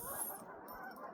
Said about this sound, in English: Listen to those ducks.